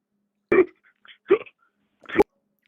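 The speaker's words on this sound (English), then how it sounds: "If you have the hiccups, sir, take a deep breath, eat some peanut butter." A caller hiccups over the phone three times, each a short, abrupt gulping burst separated by near silence, fairly close and clear.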